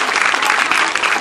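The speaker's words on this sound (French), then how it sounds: "Je voudrais qu'on applaudisse très fort" Applause for a prefect at the official handover ceremony of a public primary school in Tiassalé: a dense, loud burst of hand clapping from a crowd, continuous and close.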